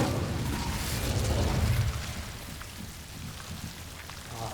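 Incendio fire spell in Hogwarts Legacy: a dense, roaring burst of crackling, rain-like noise for about two seconds, then a softer hiss trailing off.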